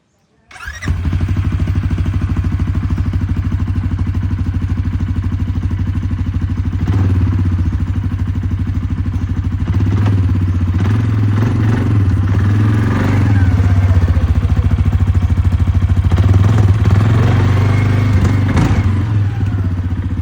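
A Powermac 680L 500cc ATV engine starts up and runs, a loud, close, steady idle with a clattering mechanical edge, rising slightly in intensity partway through; faint voices occasionally under the engine.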